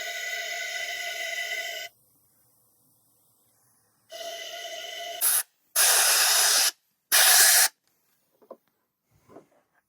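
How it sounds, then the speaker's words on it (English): Cleaner sprayed into the EGR passage of a Honda Insight, with two hissing blasts, then three short louder sprays in quick succession and a few faint handling sounds. "Cleaner, wiping it out, squirting it out,"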